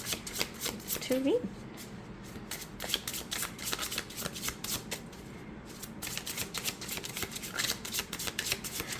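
Tarot deck with good cardstock being side-shuffled, a close, steady stream of rapid papery flicks lasting throughout, with someone speaking briefly near the start.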